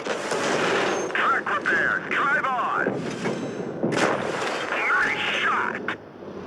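Tank cannon shots in the video game World of Tanks Blitz, played in an AT15A tank destroyer, boom repeatedly amid battle noise while someone talks over most of the action.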